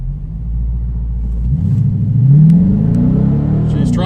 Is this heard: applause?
no